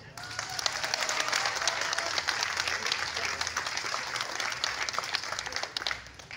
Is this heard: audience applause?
yes